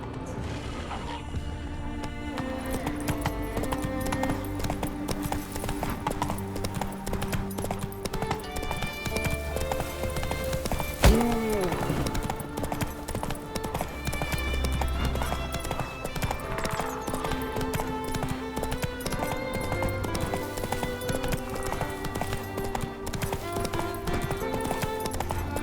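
Horse Roach gallops in The Witcher 3 with steady, rhythmic hoofbeats, alone and continuous under layered game music, broken by a sharp crash near the middle.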